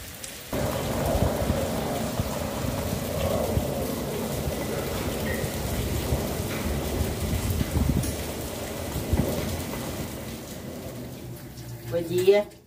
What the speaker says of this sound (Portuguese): Acordei com o barulho da chuva.